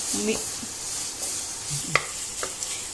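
A spoon stirring milk peda mixture with ghee in a pan, giving soft scrapes and light clinks with a faint sizzle underneath. A few sharper taps stand out near the end.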